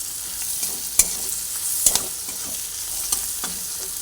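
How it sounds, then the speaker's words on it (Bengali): Pumpkin and prawns fry with turmeric and chili powder, making a loud, close sizzle broken by sharp scrapes and clacks of a stirring spoon against the pan. "এরপরে এটা ভালোভাবে ভেজে নিচ্ছি"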